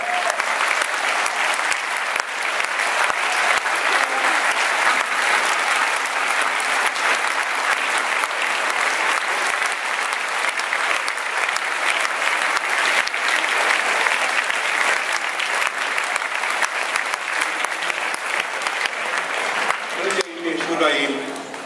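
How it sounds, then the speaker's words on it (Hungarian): A large audience claps in a long, sustained round of applause at a charity circus gala in Budapest, dense and even in loudness, with voices rising briefly at the end. "álljatok fel, és köszöntsük őket egy nagy tapsal!"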